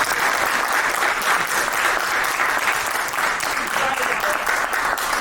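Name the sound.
audience applause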